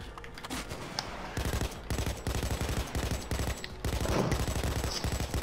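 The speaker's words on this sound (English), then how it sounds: "This light machine gun is not a good gun." A light machine gun in the video game Payday 2 fires in rapid sustained bursts, loud and close, with brief gaps between strings of shots and no speech over it.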